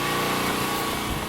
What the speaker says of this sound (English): That's not a very big engine, and it's not working the gasifier hardly at all.